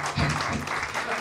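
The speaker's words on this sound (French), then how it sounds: "je vous demande d'applaudir pour ce monsieur que j'avais connu" Applause from guests at a sports dinner honoring a judo master, a dense steady wash of many hands clapping close by, with a few voices murmuring underneath.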